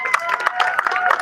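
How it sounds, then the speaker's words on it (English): Applause from a school awards audience for a group of juniors, dense clapping mixed with cheers and voices, steady and fairly loud throughout. "a round of applause for our juniors"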